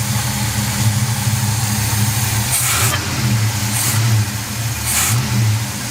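A dually truck's carbureted V8, fitted with a Q-jet carburetor and being tuned at the idle mixture screw, idles steadily nearby and gives three short revs that rise and fall back to idle.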